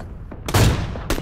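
Rapid gunfire from the video game PUBG crackles in a few sharp bursts, the loudest shots close and punchy, with no talk over them.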